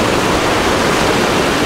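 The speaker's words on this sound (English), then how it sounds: "Man, I'm getting splashed on right here." Rough ocean water splashing and churning right beside a small underwater drone's controller during a rough-sea test, a loud, steady wash of surf noise close by with no talk.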